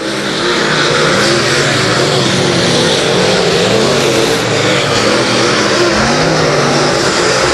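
Dirt late model race cars roar around a dirt track in a steady, loud engine drone, with the pitch of passing cars rising and falling throughout and no voices.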